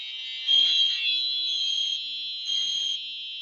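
Simplex 4903 fire alarm horn-strobe sounding during a test, a loud continuous electronic tone close by that swells briefly louder twice, with no talking.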